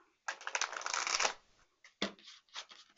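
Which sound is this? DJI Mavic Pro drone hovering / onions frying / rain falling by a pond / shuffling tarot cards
shuffling tarot cards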